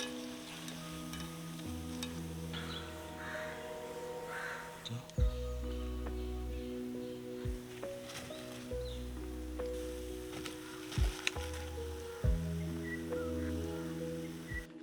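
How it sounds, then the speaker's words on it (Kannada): Cauliflower pieces for gobi Manchurian deep-fry in hot oil, giving a faint, steady sizzle under tonal background sound, with a few sharp clicks and knocks from stirring or lifting the pieces. "ಒಳ್ಳೆ ಫ್ರೈ ಆಗ್ತಾ ಬಂತು."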